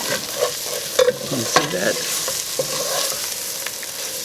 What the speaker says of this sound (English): Oh, stir it up. Get all the good brown stuff at the bottom.